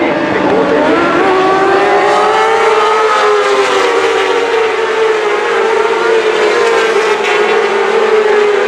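Superbike motorcycles race at Donington Park in the 2024 British Superbikes, their high-revving engines screaming close and loud in a continuous blend, the whining pitch climbing and falling as the bikes accelerate and shift.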